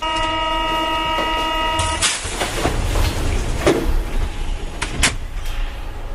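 On a metro platform, a steady multi-tone warning chime sounds for about two seconds, then the train doors slide shut with a couple of sharp knocks amid rumbling station noise.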